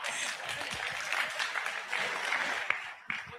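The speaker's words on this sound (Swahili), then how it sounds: "Angela na Mheshimiwa makofi yao jamani" Steady applause from a crowd at a political gathering, dense clapping with a few sharper claps standing out, fairly loud throughout and fading slightly near the end.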